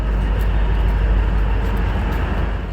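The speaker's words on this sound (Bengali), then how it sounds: "শিলিগুড়ি বঙ্গাইগাঁও ডেমু ঢুকছে এখন শিলিগুড়ি এক নম্বর প্ল্যাটফর্মে" A Siliguri–Bongaigaon DEMU local train pulls into platform one at Siliguri, giving a steady, loud, close rumble that holds without a break and eases slightly at the end.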